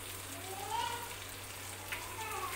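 Fish frying in hot oil with added green chilies and curry leaves, a quiet steady sizzle with a few brief crackles over a low background hum, heard at close range for a couple of seconds.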